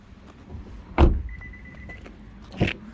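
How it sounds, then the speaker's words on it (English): An electric rear window in a 2021 Honda Jazz hatchback whirs briefly between two soft thumps, a short motor hum heard close inside the car with no talking. "and electric rear windows."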